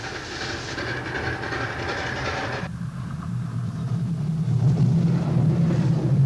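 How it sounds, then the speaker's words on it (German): Old-fashioned steam-era train rolling slowly over rails, loud and close, with steady rumbling clatter and clickety-clack that grows deeper and heavier toward the end. "mit großem Getöse und kleinem Tempo über die Schienen zu"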